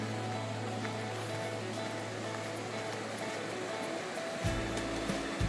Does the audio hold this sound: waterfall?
yes